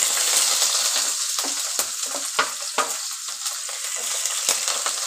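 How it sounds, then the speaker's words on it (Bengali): Chopped onion sizzles in a pan while a spatula stirs it, a bright steady frying hiss broken by several sharp scrapes and taps at an irregular rhythm. "পেঁয়াজ কুচি দিয়ে খানিকক্ষণ নেড়ে চেড়ে নেব, হালকা লাল করে ভেজে নেব"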